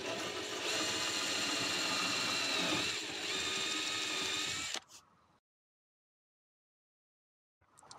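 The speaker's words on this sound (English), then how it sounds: "So I use a larger drill bit just to countersink the holes and get rid of the burr on top of the holes" Power drill with a larger bit countersinking mounting holes in a ski: a loud, close, steady whirring drone with a rough chattering edge for nearly five seconds, then a quick wind-down into silence and a brief restart at the end.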